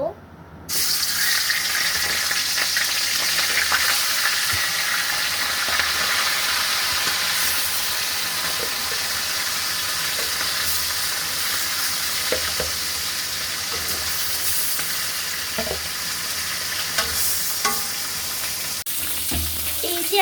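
Surma fish fry in hot oil in a pan, giving a loud, steady sizzle that holds for the whole stretch, with faint clinks and scrapes now and then.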